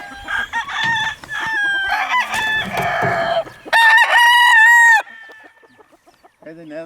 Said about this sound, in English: God, that's a beautiful rooster right there.